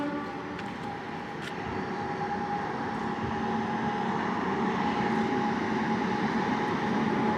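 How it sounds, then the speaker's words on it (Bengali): A freight train rolls into Jangipur Road station with a continuous low rumble and steady rolling noise that grows slightly louder over several seconds. A faint tonal line may be a distant horn, and no one speaks. "এই যে একটা ট্রেন ঢুকছে,"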